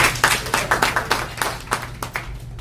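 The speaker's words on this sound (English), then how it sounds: "So if we could just give them a round of applause." An audience gives a round of applause at an event, with steady rhythmic clapping from a group that stays fairly close and even in loudness throughout, no talk over it.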